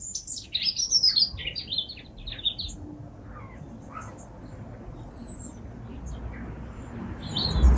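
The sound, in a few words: baby pigeons calling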